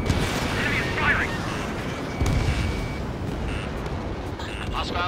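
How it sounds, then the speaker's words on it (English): Enemy gunfire and artillery-like bursts rumble in the Ace Combat 7 fleet battle, a dense and steady barrage with radio chatter over it. "Enemy is firing!"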